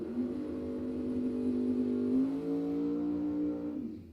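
A 1967 Camaro and a Chevy S10 pickup launch down a drag strip, their engines roaring loud and close with a steady rising harmonic drone that holds for about four seconds, then cuts off abruptly as they pull away.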